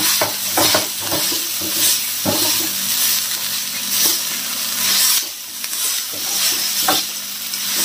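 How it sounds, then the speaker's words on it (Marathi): Green chili thecha roasts on a hot griddle, a continuous hissing sizzle broken by scraping and mashing strokes at irregular intervals, loud and close with no talking. "तव्यावरचा जो ठेचा आहे ना तो खायला पण खूप छान लागते आणि छानपैकी भाजल्या पण जाते"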